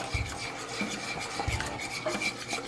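Rhythmic whisking of egg with a stream of half olive oil, half canola oil into an emulsion, a close, quick rasping swish repeated steadily with light clinks against the bowl.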